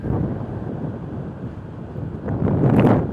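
Wind blows across the microphone outdoors, a steady low rumbling buffet that swells into louder gusts toward the end, with no voices.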